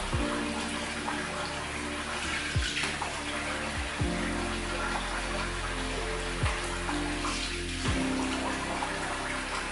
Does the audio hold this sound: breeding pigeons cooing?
no